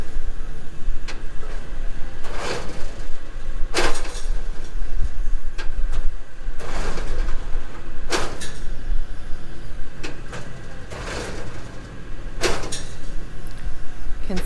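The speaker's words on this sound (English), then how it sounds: "The module truck raises it and then backs up using a camera." A cotton module truck working in a field lifts and loads a cotton module, with a constant mechanical rumble and whine punctuated by repeated metallic clanks and bangs at irregular intervals.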